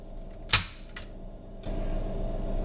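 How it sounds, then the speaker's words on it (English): A JTS M12AK 12-gauge AK-style shotgun's two-stage trigger pulled against a Lyman digital trigger gauge gives one sharp, close metallic snap, followed by a fainter click and then a low steady background hum. "So I'm going to check it with a Lyman digital trigger gauge here and show you just how good it is."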